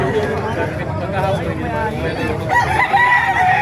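Several roosters crow and hens cluck nearby at a chicken market in Calumpit, Bulacan, Philippines, overlapping with people talking in a busy, noisy setting.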